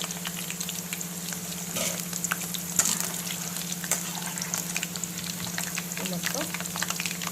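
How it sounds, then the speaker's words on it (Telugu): Bitter gourd pieces fry in oil for a pickle, giving a steady low sizzle with a few soft clicks and stirring scrapes throughout, fairly close but not loud. "ఇవన్నీ కాకరకాయ ముక్కలన్నీ వేయించేసానండి."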